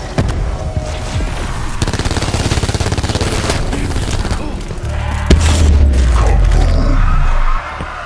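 Loud, steady automatic gunfire in Call of Duty: Black Ops 4 Zombies on the Alpha Omega map, continuous rapid shots with booming impacts and a deep rumble late in the clip, with voices talking underneath.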